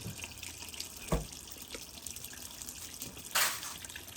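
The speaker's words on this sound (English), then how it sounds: "You can see it draining into our bucket there." A portable washing machine drains water steadily into a bucket, a soft continuous pour with a couple of louder gushes partway through.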